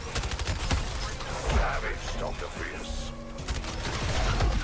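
Bursts of Firefly rifle fire in a shooter game crackle in quick volleys at the start and end, while someone talks steadily over the gunfire in between.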